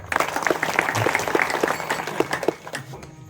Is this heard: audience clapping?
yes